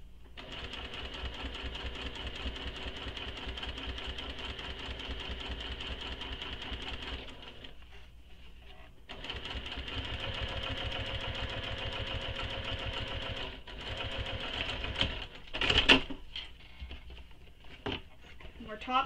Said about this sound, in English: top stitch on both sides of those seams